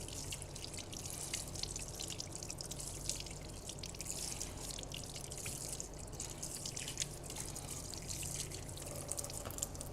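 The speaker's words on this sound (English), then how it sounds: "and rinse it all with water" Water runs and drips steadily as hands, fingers and wrists are rinsed, a continuous splashing trickle with no voices.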